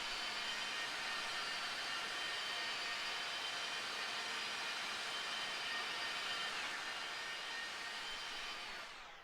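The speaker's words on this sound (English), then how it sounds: "give me a good engine shutdown noise" An ERJ-145 regional jet engine roars as a steady, loud, broadband whine and rush, holding constant for several seconds before its tone shifts and the level begins to tail off at the end.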